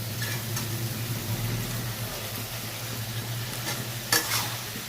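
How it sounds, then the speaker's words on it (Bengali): Papaya and potato being sautéed with spices in a pan, a loud continuous sizzle with stirring scrapes throughout, close up, and one sharper clatter near the end. "এবার একটুখানি কষিয়ে নিই মশলাটা দিয়ে, পেঁপে আর আলুটা"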